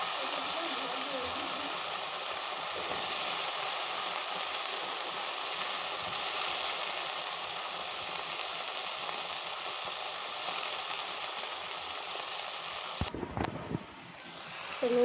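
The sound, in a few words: frying stems, potato and eggplant together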